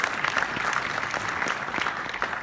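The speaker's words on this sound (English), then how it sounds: "many of the other young people doing a round of applause" Audience applause during a speech event, a continuous wash of many hands clapping with sharp individual claps standing out, moderately loud throughout.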